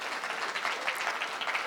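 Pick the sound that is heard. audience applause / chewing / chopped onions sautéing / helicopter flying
audience applause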